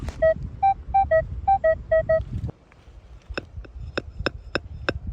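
A metal detector sounds its first signal while searching in a dense forest, first giving a run of short, clear warbling beeps, then a series of sharp, high clicking pings, close and loud over a quiet background.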